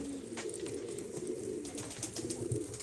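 Pigeons at a loft where birds fly and play give steady overlapping low coos, close and continuous, with faint chirps scattered throughout and no talking.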